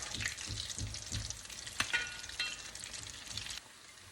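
Food frying in oil in a pan gives a loud, continuous sizzle with rhythmic stirring scrapes and a couple of sharp clinks, before easing off abruptly near the end; no talking.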